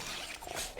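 A dog in a video game gives a short, quick yelp or bark, a single brief outburst at moderate level with no talk over it.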